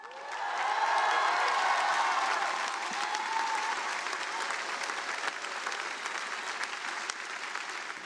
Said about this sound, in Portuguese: ao que foi interrompido por aplausos da plateia